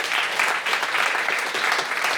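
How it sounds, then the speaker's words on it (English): Dense audience applause for two podcast guests at a live comedy show, steady and full for a couple of seconds with no break. "Big round of applause for Leyla Williams and Steasy Castro!"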